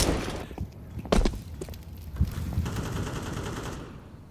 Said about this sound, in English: And so just pistols now with a MAC-10 on Zantares